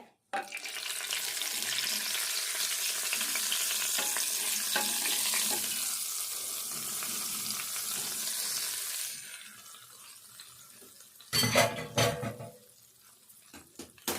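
Steady loud sizzling of a hot oil tempering hitting tamarind stew for several seconds, fading out, followed by a couple of brief clattering bursts near the end.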